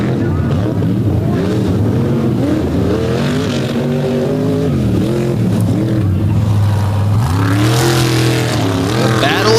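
Loud race truck engines roar and rev continuously at a Tough Trucks Challenge in Bloomsburg, pitch rising and falling as they accelerate, with a crowd or commentary faintly mixed underneath.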